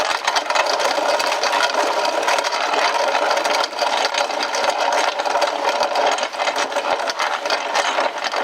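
A vintage Stover hand mill grinding grain, a continuous loud gritty rasp with rattling burrs turned at a steady pace, close up and uninterrupted.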